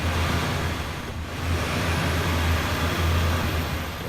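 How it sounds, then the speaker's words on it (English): Toyota Land Cruiser 80 VX in the Spintires off-road game, engine droning steadily with a low rumble and a faint rising whine near the top, loud and continuous with no talk. "you can definitely hear a little turbo whine there. Turbo spooling back down for sure"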